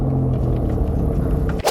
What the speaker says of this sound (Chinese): 这个声浪很明显的6缸机器声浪，但它不是那种 raspy， 不是那种刺耳的声浪